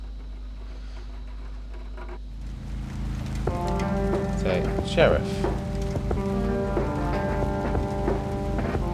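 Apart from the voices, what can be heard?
rain falling in the video game Kathy Rain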